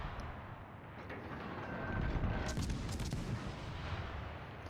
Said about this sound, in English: Let's try out the guns, eh?